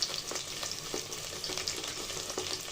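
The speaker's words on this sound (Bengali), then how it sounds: "তো কাঁচা মশলাটা দিয়ে ভালো করে ভেজে নিব।" Raw spice paste of garlic, ginger and cumin with garam masala sizzles in hot oil for beef bhuna, a soft steady crackle with regular scraping stirs, close by and fairly quiet, no voices.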